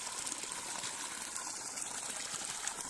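Continuous soft gushing of running water at a fountain, even and unbroken, heard at a moderate distance with no voices.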